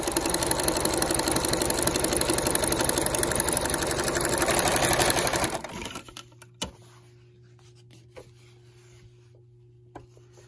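A sewing machine runs a zigzag stitch with an overlocker side cutter foot trimming and finishing a seam, a fast loud mechanical whir for about five seconds that stops, leaving a quiet hum and a few small clicks.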